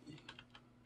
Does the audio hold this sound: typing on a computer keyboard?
yes